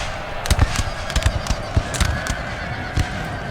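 Infantry musket volleys in a Napoleon: Total War battle at Leipzig, 1813, heard as scattered sharp cracks and pops, mid-distance, over a constant battlefield din of noise and cries.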